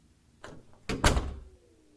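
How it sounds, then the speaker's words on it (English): A door opens in the horror video game The Crooked Man, heard as a soft click followed by a louder creaking swing and thud, close and alone with no talking. "Open door."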